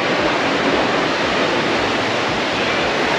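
A waterfall in Singapore roars with steady, dense rushing water, loud and continuous from start to finish with no talking.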